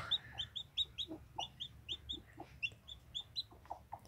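A hen clucks repeatedly in short, steady bursts close by, with a chick placed beneath her, soft rhythmic calls over a quiet background and no talking.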